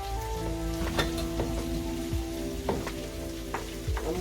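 Calaloo cooking down in a pot for a saltfish dish gives a soft, steady sizzle and bubbling crackle with occasional stirring clinks, close and low, with no talk.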